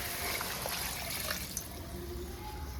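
Water poured into a simmering prawn kofta gravy, a steady splashing trickle running throughout at close range with no talk.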